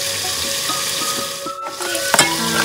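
Sesame seeds sizzle and fry in hot mustard oil for a Bengali cauliflower bhapa, a steady close crackle with brief louder spits and stirring clatter near the end.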